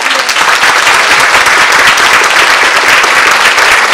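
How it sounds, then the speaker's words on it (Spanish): A theatre workshop audience gives loud, sustained applause, a dense and steady wall of many hands clapping close by, with no speech over it. "recibámonos con un fuerte aplauso"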